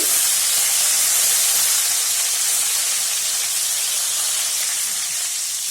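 Dry red chillies hit hot oil already holding urad dal and chana dal, giving a loud, steady hiss and sizzle that holds for several seconds with no voices.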